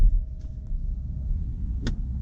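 The soft-close door of a 2020 BMW X7 40i luxury SUV pulls itself shut. A low motor whir hums under the rumble, then a single muffled clunk lands near the end, close by.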